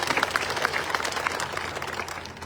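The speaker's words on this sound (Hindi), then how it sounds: "जोरदार तालियां से स्वागत कीजिए" Village gathering crowd applauding to welcome a visiting Pakistani guest at a Diwali event, a moderate burst of clapping that is dense at first and gradually thins and fades toward the end.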